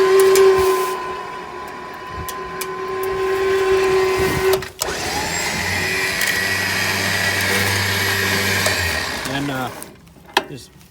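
Badland 12000 lb winch on a custom mount hauls an 8600 lb Ram truck, a steady motor whine and hum running loud and close for most of the span before dropping off near the end.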